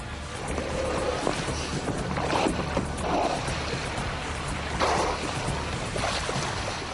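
An inflatable motor boat out on the open sea, with steady wind and water rush and a continuous low engine hum, plus occasional louder splashes of waves against the hull.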